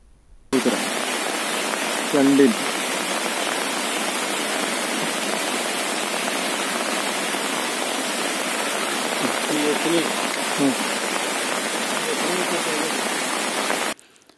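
Steady, dense rain pours down continuously over a landslide-threatened colony in Kalikavu, Kerala, a broad wash of hiss with faint voices briefly audible beneath it.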